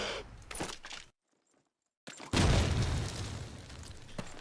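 A grenade goes off in a Call of Duty-style LAN match on the Dawnville map: a sharp, loud boom that cuts out and is followed by a broad, rumbling burst, with gunfire-like crackle trailing after.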